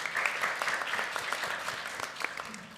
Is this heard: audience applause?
yes